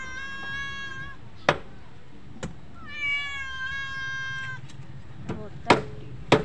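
A cat meows twice in long, drawn-out cries close by, near a fish vendor, with sharp knocks and chopping clatter in between.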